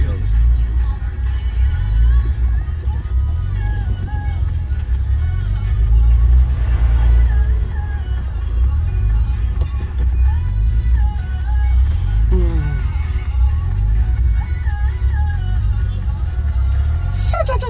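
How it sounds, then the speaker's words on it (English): Turbocharged VR6 car on a low-boost pump-fuel tune roaring up a hill, a steady loud engine drone with rising and falling revs heard from inside, with voices talking over it. "Whoa, that guy's roaring up the hill."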